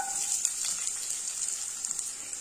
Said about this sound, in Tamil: இந்த ஆயில் சூடாயிடுச்சு. இதுல 1/2 கப் அளவுக்கு பொடியா கட் பண்ண சின்ன வெங்காயம் சேர்த்துக்கலாம்.